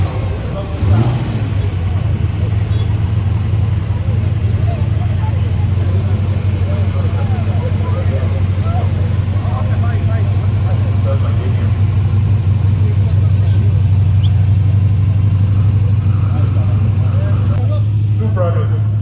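A Harley-Davidson motorbike engine runs at a classic and vintage vehicle concours in Kenya, a loud, steady low idle rumble throughout, with people talking over it.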